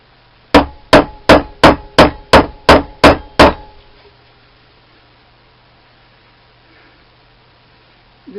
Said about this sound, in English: Now, hammer. It's hammer time.